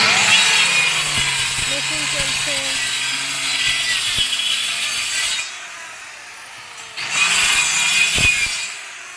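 A power saw cuts wood for a sofa-bed box, whining in a long, loud stretch, dropping away briefly, then biting in again with another burst of cutting; a voice is heard faintly.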